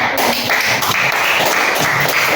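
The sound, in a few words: classroom applause for a student group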